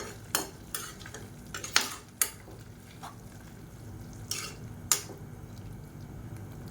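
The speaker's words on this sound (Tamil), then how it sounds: "இப்போ நல்லா கலந்து விட்டுலாம்." A spoon stirs moong dal pulao rice in a pressure cooker pot, with several scraping knocks against the metal spaced irregularly over a faint sizzle.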